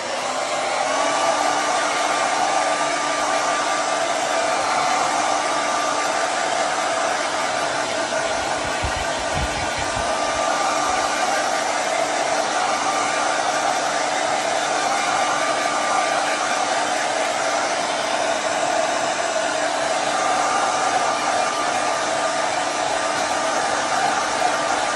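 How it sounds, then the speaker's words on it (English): A hair dryer blows loudly and continuously, a steady close-up whooshing roar with no pauses. "I'm going to get my hair dryer"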